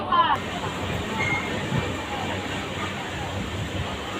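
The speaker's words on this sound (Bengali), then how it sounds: "Bardhaman two Rampurhat memo passenger ট্রেনটা একদম সঠিক সময় ছেড়ে দিল" A Burdwan to Rampurhat MEMU passenger train runs with a continuous broadband rumble and rushing noise heard from inside the carriage, loud and steady with no clear breaks.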